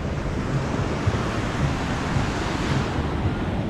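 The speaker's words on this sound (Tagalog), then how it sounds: "So may alon po ngayong hapon." Ocean waves wash in steadily through an afternoon, broadband surf with gentle low swells and some wind buffeting the microphone, continuous and fairly near, no voices.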